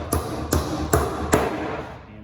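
Four sharp hammer blows ring out about every 0.4 seconds as 8 penny nails are driven into wood, each strike crisp and close, with a faint background hum and no talking.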